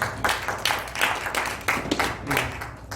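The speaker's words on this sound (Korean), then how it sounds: "우리 박수를 한번 하도록 하겠습니다." An audience at a 2020 theological conference session claps steadily and densely, filling the whole stretch at moderate loudness with no pause.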